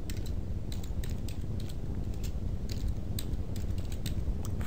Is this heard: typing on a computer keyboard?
yes